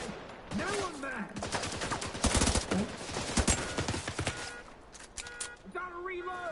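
Dense automatic gunfire from The Division 2, rapid bursts of shots up close with someone shouting excitedly over the shooting.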